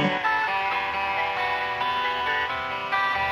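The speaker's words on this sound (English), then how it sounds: "It sounds like, you know, kind of an old broken radio or something" Guitar chords smeared by a heavy lo-fi effect, thin and crackly like an old broken radio, sustained and fairly loud for a few seconds.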